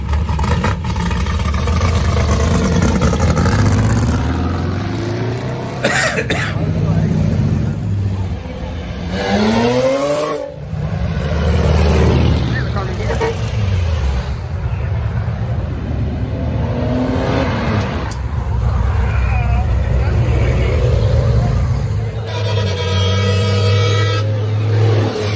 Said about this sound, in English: There goes the street legal race car.